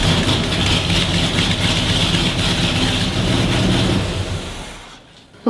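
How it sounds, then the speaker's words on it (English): A Corvette's 350 V8 engine rumbles steadily through loud new side-pipe exhausts, a deep continuous idle that cuts off near the end. "it was time to fire up the 350 and hear it through the new exhaust"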